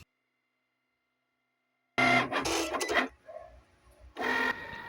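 A print and cut machine scores a line across a magnetic bookmark, starting after two seconds of silence with a burst of close mechanical whirring and clicking, dropping to a quieter hum, then another short whir near the end.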